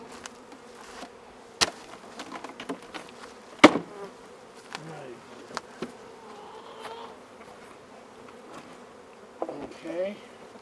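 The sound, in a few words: honey bees buzzing around hive during queen installation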